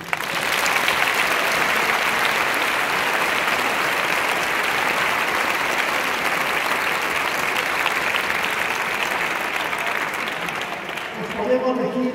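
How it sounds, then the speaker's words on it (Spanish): An audience applauds steadily at a university graduation ceremony, dense sustained clapping filling the hall for about eleven seconds before fading, with a voice starting at the end. "Os damos un aplauso por eso."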